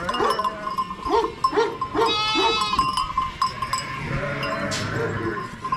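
Lambs bleat several times at a mountain farmhouse pen, near and clear, with a clinking bell and faint background voices.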